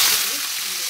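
Whole spices dropped into hot oil for a meat curry, giving a brief, bright, close sizzle that holds steady for about a second.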